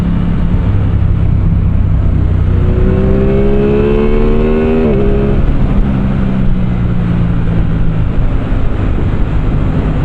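Aprilia Tuono 660 Factory motorcycle engine running steadily while riding, its tone rising through a rev sweep to a peak near the middle and then dropping, with constant wind rush throughout and no talk.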